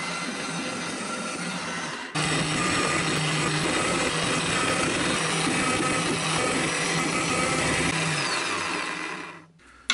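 A power drill boring 5 mm holes for M5 countersunk screws in a router lift plate, a loud, steady whirring drone that starts abruptly, holds for several seconds and then winds down, with no talk.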